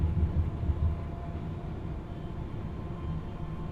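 A 1980s train engine runs in the Train Simulator 2020 video game as a steady low diesel rumble and drone from the cab, a little heavier at the start and then constant, with no talking.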